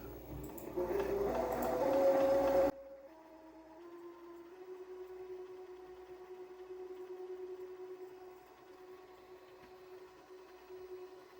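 A sewing machine winds a bobbin, a steady faint whir that holds one pitch and then steps up briefly, after a short louder burst of motor noise at the start.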